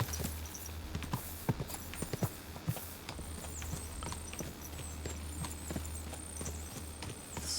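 Horse hooves clip-clopping along a path in the medieval game Kingdom Come: Deliverance 2, a steady irregular patter of hoofbeats over an ambient outdoor bed with a low hum, no talk.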